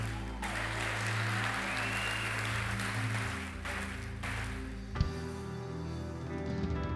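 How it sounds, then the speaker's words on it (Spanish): A church congregation applauding during a sermon, a continuous soft wash of clapping over a low sustained musical drone, with a sharp knock partway through and the music carrying on afterwards. "Dale un aplauso al Señor."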